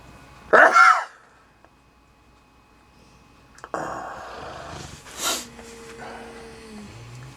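A single loud sneeze bursts out near the start, close to the microphone, followed by quiet and then faint rustling and low background sounds.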